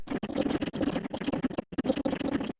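Choppy, glitchy fragments of sound stutter and jump around, short bursts cut by abrupt gaps, an Ableton device playing back different parts of a sample for techno.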